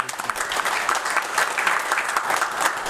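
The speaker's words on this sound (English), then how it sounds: "Nice round of applause for this." Audience applause at a police officer awards ceremony, a full, lively round of clapping from a crowd, sustained and moderately loud with uneven swells.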